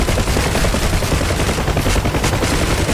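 M60 machine guns fire from a helicopter in DCS World as a loud, unbroken stream of rapid shots, close and dense for the whole stretch, with no voices.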